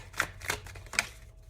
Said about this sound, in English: Let me just shuffle these because I put those cards on the bottom.